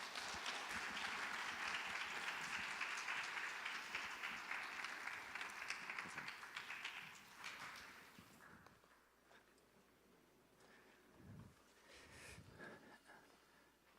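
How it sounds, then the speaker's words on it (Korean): A church conference audience at a Korean Salvation Army mission event claps to welcome a speaker, a dense, fairly quiet round of applause that fades out after about eight seconds, leaving a hushed room with faint shuffles. "우리 큰 박수로 환영하겠습니다."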